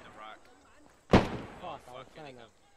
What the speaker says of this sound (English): Last three rounds of mortars are going out.